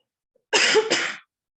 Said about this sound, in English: So sorry, I had to cough.